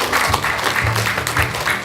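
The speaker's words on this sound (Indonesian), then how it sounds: "Tepuk tangan dulu untuk semua." A room full of people at a reading-room training workshop claps in a brief burst of applause, dense and even from start to finish with no voices over it.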